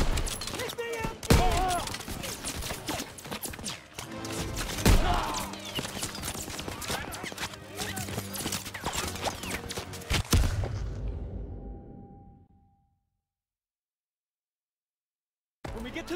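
Battlefield gunfire from a World War II D-Day beach landing in the Call of Duty WW2 campaign, with dense bursts and heavy thumps under shouted voices, loud and continuous before cutting to silence near the end.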